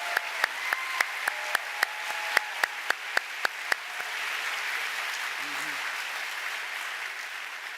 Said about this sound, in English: Please have a round of applause for the class of 2029